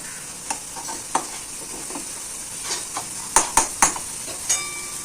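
Prawns sizzle in a pan as a spoon stirs them, steady frying hiss broken by sharp scraping clinks against the metal, several louder strokes clustered near the end.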